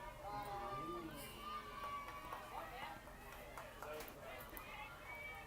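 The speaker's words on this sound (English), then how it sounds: "Crowd on both sides, very vocal here." Vocal crowd noise from both sides at a Tufts versus Rochester NCAA college softball regional final in Medford, a steady roar of cheering and shouting that holds throughout, with voices mixed in.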